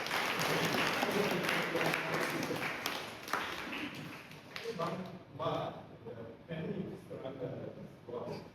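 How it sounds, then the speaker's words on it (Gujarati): An audience at a gathering with visitors from Japan claps for a speaker, dense applause for about four seconds that thins into scattered claps as talking resumes. "આપણે તાળીઓ પાડીએ એના માટે"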